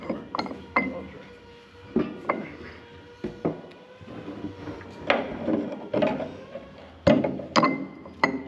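The hydraulic tank top on an IH Dresser TD20E ex-government bulldozer is pried with a pry bar, giving irregular metallic clanks, scrapes and knocks at close range, several sharp hits spaced across the clip.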